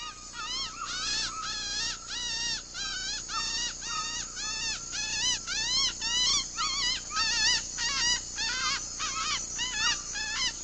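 In the Amazon jungle a Huaorani hunter repeatedly whistles a rhythmic, high bird call with his voice, a long series of close, loud chirping phrases that imitates a bird, with no speech.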